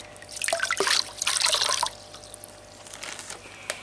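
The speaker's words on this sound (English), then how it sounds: "I'll just give it a good squish around in the water." Wet squelching and sloshing as an aquarium canister filter sponge is squeezed in water, two bursts of splashy dripping followed by quieter trickles, close by.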